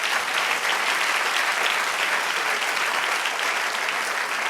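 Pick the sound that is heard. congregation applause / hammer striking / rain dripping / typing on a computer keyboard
congregation applause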